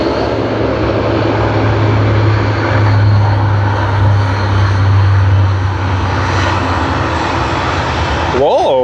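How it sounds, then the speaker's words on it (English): A Japan Airlines Boeing 787-800 Dreamliner bound for Tokyo Haneda at Sydney Airport produces a steady engine drone with a low hum throughout, and a brief sharp sound at the very end. "Japan Airlines, Boeing 787-800 Dreamliner to Tokyo Haneda."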